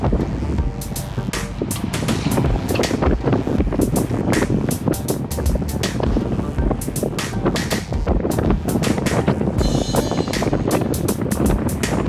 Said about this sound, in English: So the wind is blowing and everything.